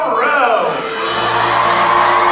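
Audience at a medieval dinner-theatre joust show cheering for the knights, a loud swell of whoops and shouts from a large crowd, with a voice calling out over it at the start.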